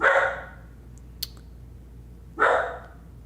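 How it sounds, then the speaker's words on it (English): A dog gives two sharp barks about two seconds apart, fairly close, with quiet room tone in between and a small click. "He's barking."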